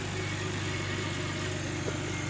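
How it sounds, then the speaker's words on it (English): Toyota car engine idling at a steady, even rumble during a used-car inspection, a continuous close low drone with no talk over it. "As you can see, engine sounds perfect."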